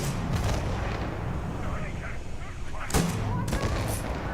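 Gunfire from a weapon in the Starfield game: a couple of sharp, loud shots cracking out near the end amid a busy, noisy battle background with some voice present.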